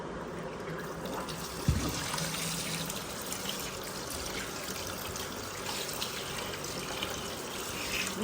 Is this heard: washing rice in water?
yes